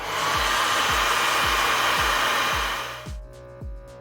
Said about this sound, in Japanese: こちらをねこれから今ドライヤーで温めていきます